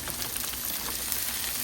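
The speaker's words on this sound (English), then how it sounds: "we're going to go ahead and throw in our deluxe stir fry veggies" Deluxe stir-fry vegetables sizzle in a hot pan, a brief steady crackling hiss with light popping, fairly quiet and alone.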